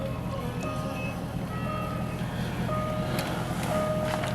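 A Jaguar XFR 5.0 V8 sounds its open-door-with-ignition-on warning, a series of soft, evenly spaced electronic chime tones repeating over a low cabin hum.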